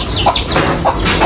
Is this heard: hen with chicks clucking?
yes